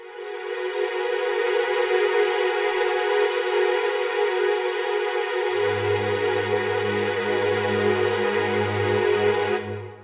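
A sustained orchestral horn ensemble chord from the Spitfire Symphony Orchestra library, held loud and steady for about ten seconds, with a lower voice entering partway through and the chord cut off cleanly at the end.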